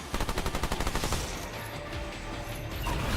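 Rapid SMG fire in Remnant 2 hammers out a fast, evenly spaced burst for about a second, then gives way to a denser, continuous clatter of mechanical game noise at steady loudness.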